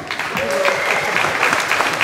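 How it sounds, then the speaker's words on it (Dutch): Warm audience applause at an evening benefit event following a speech, continuous clapping from a crowd, close and loud throughout the short stretch. "Ja, mag ik nog 1 hartelijk applaus voor Albert Pronk?"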